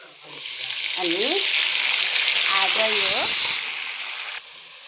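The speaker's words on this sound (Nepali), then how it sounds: "अब चाहिँ यसमा म प्याज हाल्दैछु" Onions hitting hot oil in a pan where potatoes have already fried, for a Nepali potato-paneer curry; a loud, steady sizzle swells as they go in, with bursts of stirring and scraping, then drops off sharply near the end.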